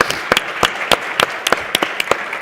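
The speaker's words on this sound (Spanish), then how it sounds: "creo que se merece un aplauso" An audience applauds an award at a ceremony, with sparse, distinct handclaps spaced out and rhythmically loose, fairly close and clear with no talking.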